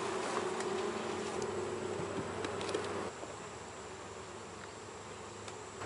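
Honey bees swarm noisily around an open hive box with frames pulled during a summer varroa mite check, forming a dense, continuous close buzz that drops slightly in level partway through, with no talking.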